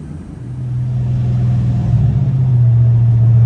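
A Coyote-swapped Ford Mustang S197 running on E85 gives off a loud, close, low engine drone that swells slightly and holds steady, with no voices.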